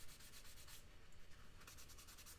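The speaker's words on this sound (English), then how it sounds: "So I'm using a super fine sanding sponge" A super fine sanding sponge of roughly 600 to 700 grit rubs across a surface to remove sanding scratches, a faint, steady back-and-forth scuffing heard close up without talk.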